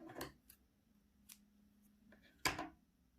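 Scissors snip crochet thread during lacework, giving a few faint, sharp clicks spaced apart and ending in one louder, crisp cut, with quiet room tone between.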